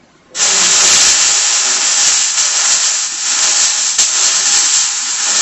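Welding torch starting abruptly and then running as a loud, steady, even hiss close by for about five seconds, with no talking.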